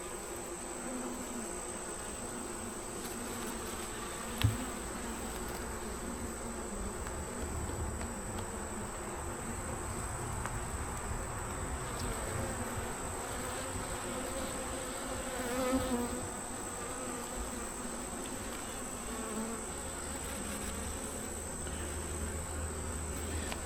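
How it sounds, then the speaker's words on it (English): Honey bees buzzing around an open hive frame with brood and nectar, a dense steady hum of many bees close by, with a faint constant whine and no talk. "Definitely way more bees in here than there was."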